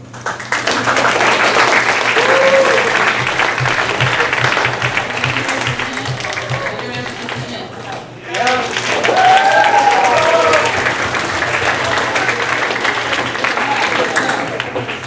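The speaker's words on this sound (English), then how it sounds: "give yourselves an applause" A school assembly audience claps for itself in sustained, loud applause with a brief lull partway through, whoops and voices rising over the clapping.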